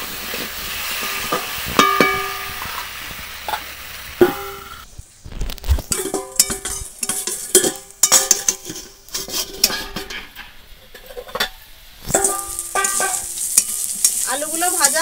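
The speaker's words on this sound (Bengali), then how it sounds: "আলুটা একটু ঢাকা দিয়ে দিয়ে ভালো করে ভেজে নেব" Potatoes fry in a pan for a bitter Bengali fish dish, seasoned with salt and turmeric and partly covered, giving a steady sizzle broken by repeated metallic scrapes and clanks of a spatula stirring against the pan.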